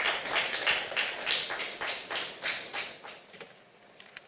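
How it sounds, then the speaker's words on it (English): An audience claps to welcome a speaker at a maternal health financing dialogue, a small group's fairly sparse, rhythmic claps at moderate volume that slowly thin and fade out. "Shall we welcome her with a round of applause,"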